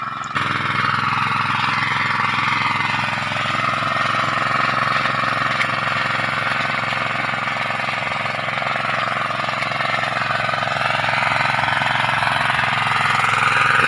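A small engine driving an irrigation water pump for drip irrigation in Tarlac runs steadily and loud for the whole stretch, with a continuous rumbling drone and no talk over it.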